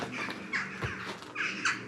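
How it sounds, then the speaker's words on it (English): Crows cawing around the grounds of the derelict Balrossie School, several harsh calls in two bursts, moderately close, with no talk over them. "That's just the crows."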